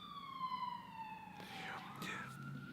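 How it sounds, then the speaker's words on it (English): An ambulance siren wails past outside a gym, its falling tone sliding down as it passes, moderately loud and steady, then giving way to a higher repeated wail near the end with faint background noise. "the ambulance."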